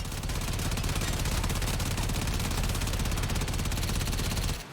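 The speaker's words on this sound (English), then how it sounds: "Open fire." Rapid automatic gunfire in the video game Warframe, a dense unbroken burst of shots lasting several seconds, loud and close, then stopping abruptly.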